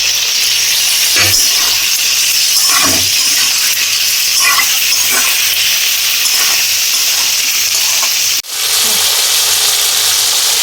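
Steady loud hiss of green chilli and bay leaf frying in hot oil in a pan, continuous throughout with a few faint clicks and a brief dip near the end.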